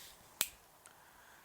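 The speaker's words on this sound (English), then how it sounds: "I snap my fingers" A single crisp finger snap rings out once, close and sharp, with a much fainter tap following a moment later in an otherwise quiet room.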